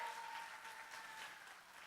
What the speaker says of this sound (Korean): 이쯤에서 택시 기사님들께 박수 한번 드릴까요?